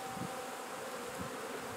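Honey bees buzzing around an open hive during a beekeeping frame inspection in Swanzey, New Hampshire, a close, continuous droning hum with a few brief louder passes.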